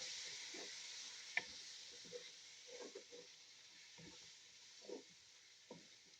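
Freshly ground tomatoes fry in a pan for a rural traditional wedding stew, giving a steady, soft sizzle with a few faint stirring clicks and scrapes and no talk.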